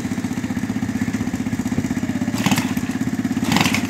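A small moped engine runs unevenly nearby, its steady low chugging broken by rattling clatter and a couple of louder revving surges; the engine is faulty and kicks to the side.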